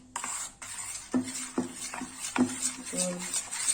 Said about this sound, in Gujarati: એક જ ડાયરેક્શનમાં હલાવવાનું છે અને બહુ આપણે હલાવવાનું નથી